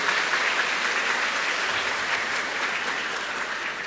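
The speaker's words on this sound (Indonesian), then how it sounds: "kita beri tepuk tangan sekali lagi" A church congregation at an Imlek New Year Eucharist applauds steadily, a dense, even wash of many hands clapping that fills the room without a break.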